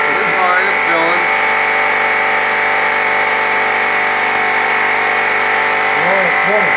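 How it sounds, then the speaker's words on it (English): An air compressor filling a tire during valve stem work, a loud steady motor hum with strong harmonic tones running throughout, with speech over it at the start and near the end. "That's the compressor filling."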